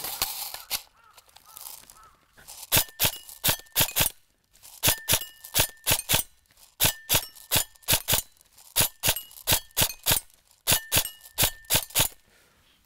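Electric airsoft gun with an electronic trigger and upgraded motor firing at steel challenge targets, sharp rapid shots in bursts with bright metallic pings from struck plates, repeating in clusters.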